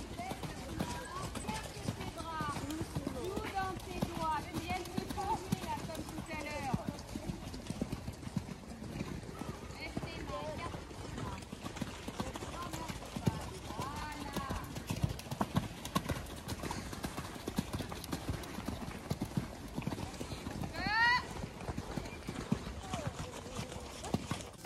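A mare trots steadily and her hooves clip-clop in an even, continuous rhythm on the ground. The footfalls come from a moderate distance and stay fairly faint, with soft background noise and a brief whinny-like cry near the end.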